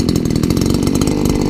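A small lawn mower engine being pull-started after priming and choking, caught as a loud, close, steady rapid putter of the running engine across the whole short stretch, with no talk.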